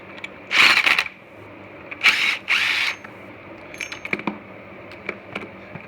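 A power tool removes the alternator compensator nut on a 1986 Kawasaki ZX1000 motorcycle, giving three short, loud whirring bursts, followed by scattered metallic clicks and clinks of tools and parts.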